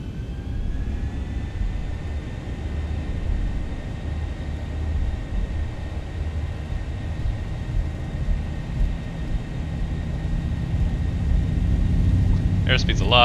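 Boeing 737 engines spooling to takeoff thrust in the X-Plane 11 simulator, a steady broad roar with sustained high whines that grows slightly louder toward the end, with a short chirp near the close.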